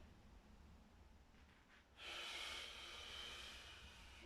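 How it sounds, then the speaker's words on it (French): Breath drawn in during a yoga exercise: after a quiet start, a steady airy hiss of inhaling rises about halfway through and holds fairly loud and close to the end, with no talking. "J'inspire."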